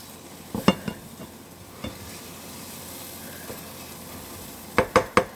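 Breakfast food frying in a pan on a stovetop, with a soft steady sizzle under scattered utensil scrapes and a few sharp clinks of a spatula against the pan near the end.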